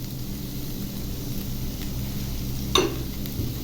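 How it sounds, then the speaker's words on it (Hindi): Mutton and vegetables fry in a pan with a steady, close hiss, and one brief clatter rings out near the end. "ये 1 मिनट के लिए मैं अच्छी तरह इसको फ्राई कर लेती हूँ।"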